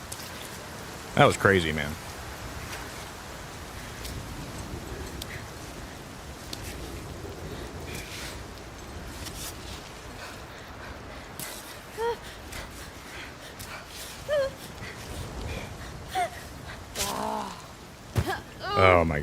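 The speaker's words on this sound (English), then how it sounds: "Oh my god, this rain's gonna irritate me." Steady rain falls as a continuous soft hiss throughout, beneath occasional speech and scattered short game sounds.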